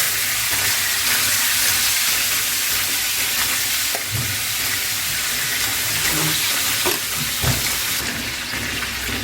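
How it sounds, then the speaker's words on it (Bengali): Pieces of boal fish fry in hot oil in a frying pan, giving a loud steady hiss close by with occasional spatters and a few soft knocks as the pieces are moved, with no voices. "মাছগুলো হালকা করে ভেজে নেব।"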